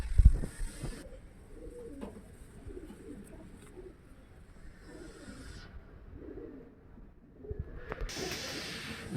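Girebaaz pigeons give soft, low, repeated coos at a quiet level, with occasional rustling and handling noises at the start and end.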